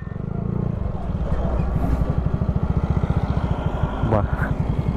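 A motorcycle engine idling, its fast, even low putter pulsing steadily and fairly close for several seconds, with a short rising whine near the end.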